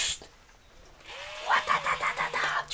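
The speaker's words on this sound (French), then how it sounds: "des marteaux qui tapent dans un bain d'huile et donc l'impact en gros est tout aussi puissant mais ça t'éclate pas les oreilles" A quiet hydraulic oil-pulse impact driver whirs up, then chatters in a fast, muffled pulsing burst of rapid hammer beats, fairly close and subdued, with no talking over it.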